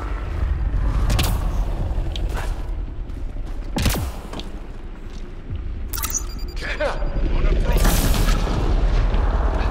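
Cannon fire in the video game Mass Effect Andromeda: several loud, heavy booms with sharp cracks and rumbling tails over constant battle noise, with voices in the mix.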